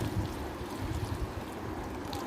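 Water is poured into a pan while rava upma cooks, giving a steady, soft rushing and gurgling noise at close range with no talking.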